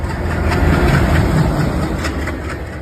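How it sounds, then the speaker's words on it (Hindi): A four-stroke diesel engine in a WDG-6G or ALCO railway locomotive gives a loud, steady, deep rumble that runs unbroken, with no voices over it. "WDG-6G तथा एल्को दोनों लोको में 4 स्ट्रोक इंजन होने"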